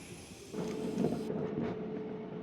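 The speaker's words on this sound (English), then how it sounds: "every day, trains packed with commuters pass directly overhead." A low, steady rumble of a commuter train passing directly overhead in Tokyo swells and holds, heard from nearby with a dull, muffled roar.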